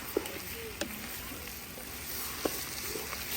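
Tomatoes sautéing with softened onions in a pan give a steady, fairly quiet sizzle, with a few sharp clicks from stirring scattered through it.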